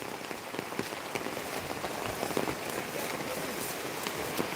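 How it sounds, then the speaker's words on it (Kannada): Heavy rain falls hard and close in a dense, steady patter of drops on surfaces, continuous throughout with no break. "ಕೇಳಿಸ್ತುಂಟಲ್ಲ ಮಳೆದು ಸೌಂಡಿಗೆ"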